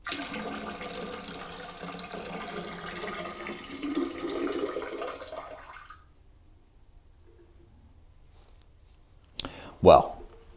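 Soda is poured out, a splashing pour for about six seconds that trails off into quiet, followed by a couple of sharp clicks near the end.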